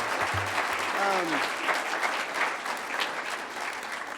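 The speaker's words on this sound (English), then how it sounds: "give yourself a round of applause for that" Dense, steady applause from a large audience at a lecture session, a continuous wash of clapping with a brief voice at the start.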